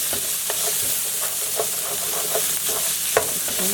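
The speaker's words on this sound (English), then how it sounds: "And just stir fry it." Alligator meat stir-fried with onion, peas and carrots for fried rice, with a loud continuous sizzle and a run of spatula scrapes and taps stirring the pan, without talk.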